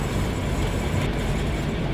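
A train approaching in the Train Sim World 2 railway simulator, Great Western diesel setting: a steady, loud rumbling roar of rolling stock with faint wheel clatter, continuous and without talk.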